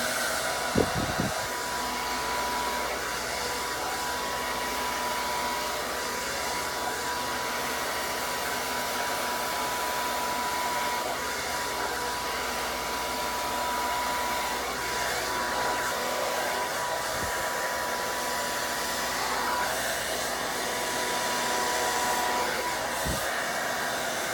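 A hair dryer runs steadily and loudly through the whole stretch, drying hair section by section during a keratin smoothing treatment in a salon, with brief low thumps near the start and end.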